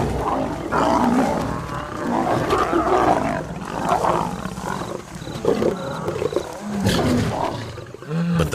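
A lion pride mauls a young lioness, giving sustained loud, close roaring and snarling with deep growls that swell and fade over several seconds.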